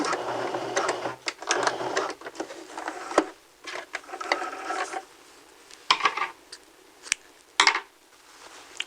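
A sewing machine back stitches while a sleeve is being set in, giving short close runs of mechanical whirring broken by pauses, clicks and the light handling of fabric.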